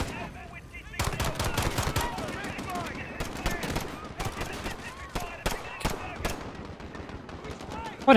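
Gunfire in Call of Duty Modern Warfare 2019, fast continuous automatic shots crackling steadily for several seconds, with a voice talking over the firing.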